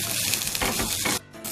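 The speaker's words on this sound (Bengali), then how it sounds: "এবারে এটাকে আমি আরও 2 মিনিট মতো একেবারে লো ফ্লেমে ভেজে নেব" Chicken roll filling fries in a pan over a low flame, a steady close sizzle with soft stirring scrapes, briefly dipping quieter near the end.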